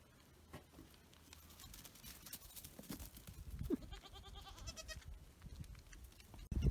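Goats kept in a pen with ewes give a few faint, quavering bleats over quiet hoof patter and rustling, ending with a louder knock.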